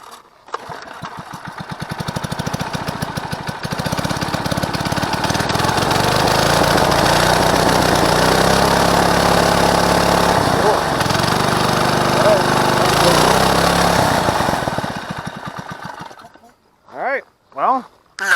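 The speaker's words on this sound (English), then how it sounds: "Well, we got a working engine with it." A Predator 212cc engine fitted to a Motovox MBX10 mini bike runs loud and steady for about fifteen seconds, with the pitch rising and falling as the throttle changes, then cuts out and leaves a few short sputters.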